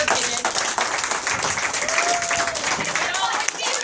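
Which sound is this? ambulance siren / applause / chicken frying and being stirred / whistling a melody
applause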